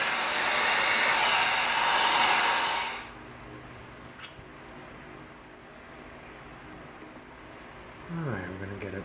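Heat gun blasting hot air onto a half-round rubber tube during EVA foam prop work, a loud steady roar for about three seconds that cuts off, leaving quiet room tone and a brief rumble near the end.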